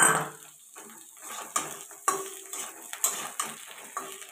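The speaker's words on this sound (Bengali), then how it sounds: "তো দেখো ঝিঙেটা আমি দিয়ে দিলাম।" Sliced ridge gourd goes into a pan of katla fish curry with potatoes, giving a run of close, sharp clatters and scrapes of a utensil against the metal pan, spaced irregularly, with no talk.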